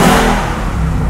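Ford Mustang GT 5.0 V8 Fastback with its active exhaust system switched on, revving loudly and close by in a deep steady roar that is strongest at the start and eases slightly over one short burst.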